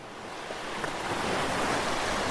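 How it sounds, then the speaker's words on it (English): Ocean waves roaring in pitch-black darkness beside an isolated lighthouse, a loud continuous wash that slowly builds in strength, with no voices. "Just the roar of the ocean."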